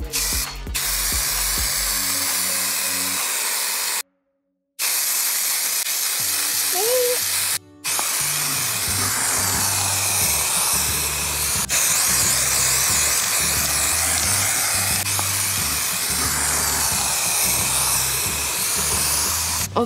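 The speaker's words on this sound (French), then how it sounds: "On va utiliser une bombe de peinture." A spray paint can hisses in long continuous bursts as paint is sprayed onto a cement pumpkin, the hiss broken by brief silent gaps, with a rattling mechanical undertone and background music throughout.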